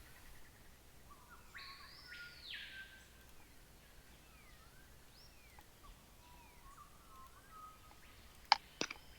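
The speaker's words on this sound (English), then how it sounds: "The birds remain chirping their normal chirps, nothing else." Birds chirp with scattered, faint whistled calls and sweeping tweets over quiet background hiss, ending in a couple of sharp clicks.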